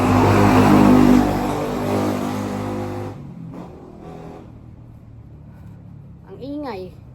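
A loud motorcycle engine with a noisy exhaust roars close by for about three seconds, then cuts off abruptly, leaving quiet background and a brief voice near the end.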